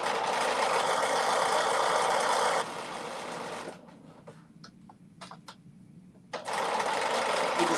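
Sewing machine stitching a dress top, running loud and steady, then easing to slower, softer bursts with a few sharp clicks before speeding up again at full pace.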